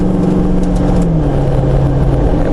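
A Jeep JK with an LS3 V8 and 6L80 transmission accelerating on light throttle, a loud, steady engine drone heard from inside, with the pitch rising slightly and leveling off.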